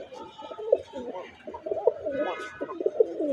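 A Budapest pigeon coos in soft, repeated throaty phrases close by, with faint background noise and a brief higher sound partway through.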